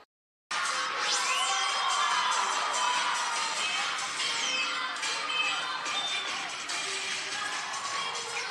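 A large crowd at a cheer and dance competition roars and cheers continuously after a sudden start, with high shouts and screams layered over the dense, loud noise of the crowd.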